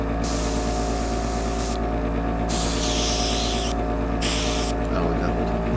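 Airbrush spraying paint in light, short passes, a steady hiss that starts and stops in bursts over a constant low hum from a nearby compressor.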